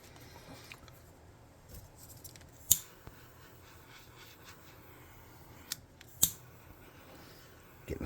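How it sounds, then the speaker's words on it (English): Scissors snip through material while a model skysail prop for a tabletop role-playing game is being built, giving a couple of sharp, close clicks spread over a quiet background. "I'm going to snip that off."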